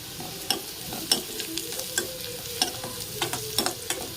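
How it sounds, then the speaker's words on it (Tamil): Onions sauté in a pan for chow chow kootu, a continuous close sizzle broken by regular spoon scrapes and taps against the pan as they are stirred. "வெங்காயம் ஓரளவு வதங்கிருச்சு"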